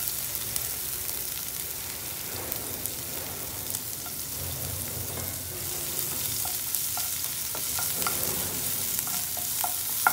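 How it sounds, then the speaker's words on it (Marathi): Chopped onion and green chili-garlic paste sauté in a pan for a pulav, giving a steady low frying hiss with faint stirring scrapes and small clicks throughout. "आपले कांदा आणि मिरचीचा ठेचा परतून झाला आहे"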